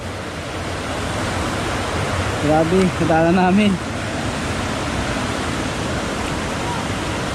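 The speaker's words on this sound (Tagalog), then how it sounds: "Narinig ko na ang mga tunog ng tubig." Steady broadband rush of falling water at Gabaldon Falls, a constant wash of spray heard close by, with a brief burst of speech partway through over the roar.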